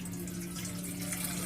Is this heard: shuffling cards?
no